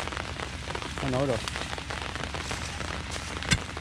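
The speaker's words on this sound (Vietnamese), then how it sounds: "Trời ngày càng mưa to nữa." Heavy rain pours during a stormy rescue of a truck carrying glue stuck in mud, a dense steady hiss of drops on surfaces with a brief sharp crack near the end and a few short words spoken over it.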